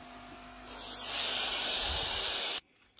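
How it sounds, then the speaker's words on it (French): A Philips PerfectCare 7000 steam generator iron releases a strong, steady hiss of steam that builds and then cuts off sharply after a couple of seconds. "c'est après quelques minutes de chauffe que la vapeur sort bien"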